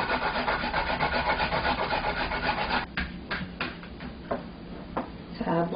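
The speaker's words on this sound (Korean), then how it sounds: "무는 강판에 갈아 사용합니다." Radish scraped back and forth on a kitchen grater, a dense rhythmic rasping that runs continuously for a few seconds, then breaks into slower separate strokes with short pauses between them.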